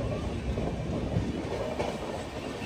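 Passenger train rumbling steadily into Tenali junction, a dense low roar with faint clatter of wheels on track, continuous and fairly near, without voices.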